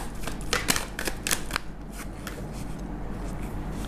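Tarot cards shuffle close by in quick riffling bursts, followed by softer rustling and sliding as cards get drawn from the deck.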